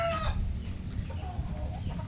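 Straight Sweater chickens on a farm, hens clucking and a rooster crowing near the start, followed by busy overlapping clucks and calls over a steady low background hum, with no talking.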